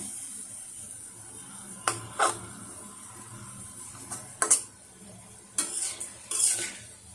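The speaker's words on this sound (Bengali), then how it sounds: "চিনির রসটা কিছুক্ষণ একটু জাল করে নেবো" Thin sugar syrup simmers in a pan with a faint steady bubbling hiss, broken by several sharp scrapes and clinks of a utensil stirring against the metal.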